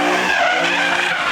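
Ford Mustang arriving at a car meet with its tires skidding, a loud, continuous close screech of rubber that holds steady for about a second with no talk over it.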